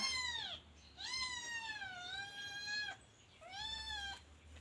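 A young Scottish Fold kitten meows three times, each call long and clear with a falling then level pitch, close by with no one talking.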